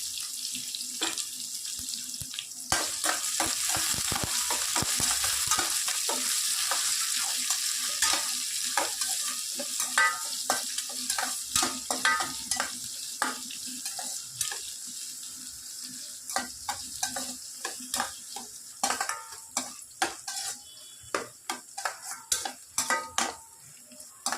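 Four broken dried red chilies are dropped into a frying pan and sizzle in a continuous hiss, joined by frequent sharp clicks and scrapes of stirring that become more pronounced toward the end.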